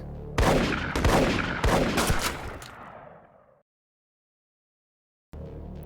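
Dense, loud bursts of gunfire and blasts from the video game Cyberpunk 2077 in a chaotic barrage, trailing off into a rumbling fade and silence before another burst begins.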